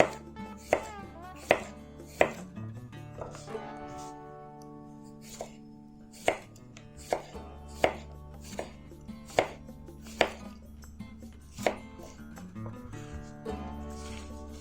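An Opinel No. 9 carbon steel knife slices through food on a board, producing a series of sharp, irregular chopping taps close up, with no voices.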